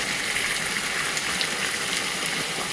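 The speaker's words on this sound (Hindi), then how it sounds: "बहुत ज़्यादा पानी गिर रहा है" Heavy rain pouring down in a steady, dense outdoor wash of falling water, continuous and fairly loud throughout, with no voices.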